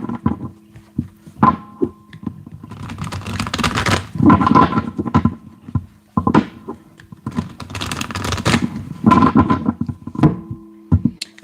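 A deck of oracle cards being shuffled by hand, repeated riffling and slapping bursts in an irregular rhythm, close and crisp, with short pauses between shuffles and no talking.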